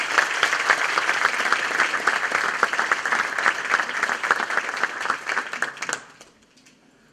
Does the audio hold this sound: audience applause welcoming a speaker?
yes